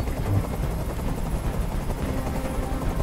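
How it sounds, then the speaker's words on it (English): A helicopter in a Detroit: Become Human hostage scene gives a loud, continuous rotor rumble with a steady churning texture, heard alone without speech. "I can't stand that noise anymore. Tell that helicopter to get out of here."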